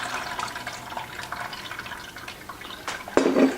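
Liquid kefir pours steadily through a strainer into an 8-quart pot, a continuous soft trickle and splash with a few sharper drips and a louder splash near the end.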